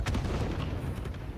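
Explosions go off in the factory-building video game Satisfactory, a short burst of heavy low booms with crackling pops layered on top, fairly faint and muffled.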